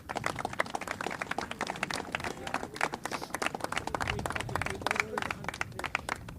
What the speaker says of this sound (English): Can we get a round of applause for Rice College